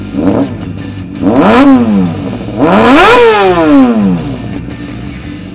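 A 2012 Kawasaki ZX6R Ninja 600 motorcycle fitted with a Two Brothers slip-on muffler, revved twice at close range, each blip rising sharply to a loud, raspy howl and falling back to a lumpy idle.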